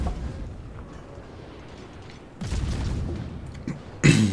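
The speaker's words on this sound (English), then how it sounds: "I fire a couple pot shots at him just for ha-has" Naval guns on the Yueyang destroyer in a warship battle game fire a couple of pot shots, a deep booming blast followed by a sharper, louder report near the end, over constant low engine rumble.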